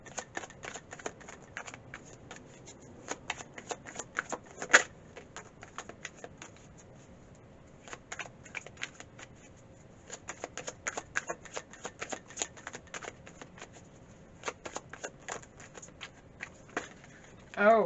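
Tarot cards are shuffled and riffled in a quiet room during a Capricorn love reading, giving a near, crisp run of quick flicking and slapping bursts with brief pauses, no talk over it.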